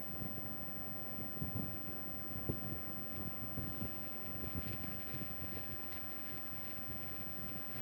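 Steady wind blows outdoors on a blustery day, a broad continuous rush with gusty low buffeting against the microphone throughout, no talking.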